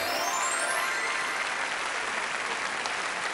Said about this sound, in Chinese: 我们掌声欢迎吧。